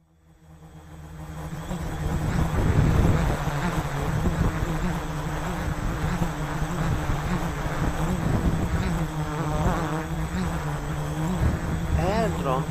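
A quadcopter drone with an APM 2.8 flight controller hovers in AutoTune flight mode, its rotors making a steady, loud buzzing whine that swells in over the first seconds and wavers in pitch as it shifts position.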